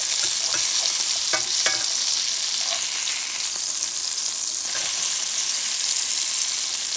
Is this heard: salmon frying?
yes